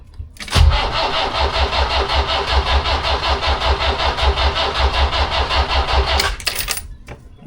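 A Volvo Penta MD21A marine diesel on a boat cranks and catches, then runs in a loud, steady knocking idle for several seconds before cutting off abruptly.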